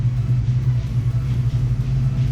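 A Ford Fox Body Mustang engine idles close by, a steady deep rumble holding an even, unbroken tone throughout.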